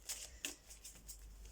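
Oracle cards are shuffled and one is drawn from the deck, making a quiet, close run of quick papery flicks and slides.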